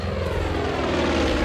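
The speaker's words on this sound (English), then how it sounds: "I'm still able to duck this plane" A propeller airplane drones loudly overhead in the Far Cry 5 video game, a steady continuous engine roar that holds for the whole moment with no talking.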